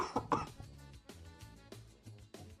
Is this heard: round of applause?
no